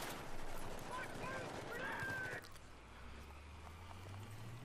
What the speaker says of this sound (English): So I'm taking some shots at the enemy right now, pick off a couple enemies.